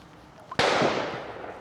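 A single sharp gunshot cracks out during a solo river kayak trip, a loud sudden report with a short echoing decay across the water.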